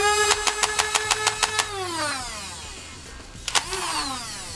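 A JF M416 flywheel disc launcher fires a rapid full-auto burst of about ten shots, loud and close, while the flywheel motor whines and then spins down. After a pause comes another short pair of shots with a brief motor whine.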